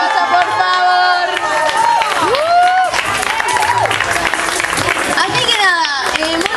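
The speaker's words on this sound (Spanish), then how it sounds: "un aplauso para la bolsa, por favor." Crowd applause and cheering at a live music show, mixed with loud voices and shouts, a dense continuous roar of clapping throughout.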